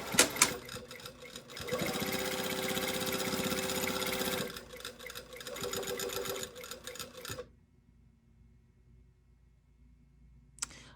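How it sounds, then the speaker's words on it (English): A sewing machine stitches along the pressed edge of a dress lining, running in a steady fast whir for several seconds, pausing briefly, then running again before stopping into near silence; close and clear, with no talking. "I'm just going to sew right along that pressed edge"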